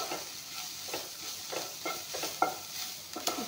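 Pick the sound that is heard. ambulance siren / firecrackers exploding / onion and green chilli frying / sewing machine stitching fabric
onion and green chilli frying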